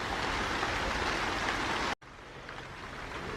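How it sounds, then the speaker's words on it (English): Steady hiss of rain falls throughout, dropping out for an instant before continuing a little softer. "It appears to be raining."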